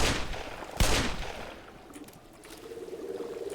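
Gunfire from the video game Black Mesa: a sharp shot at the start and another loud blast just under a second in, fading into softer scattered pops and mechanical clatter, with no talk over it.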